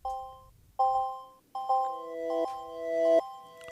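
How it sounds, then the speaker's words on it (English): Synth notes from a 2002 MicroKorg using preset complex 5 with a long filter delay, a few soft bell-like tones that swell and echo into overlapping sustained layers, quiet and alone. "I used the filter delay and then preset complex 5"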